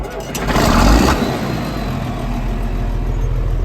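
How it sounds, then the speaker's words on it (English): A tractor engine cranks and fires, swelling into a loud roar, then settles into a steady, close, throbbing idle. "So let's start this tractor up."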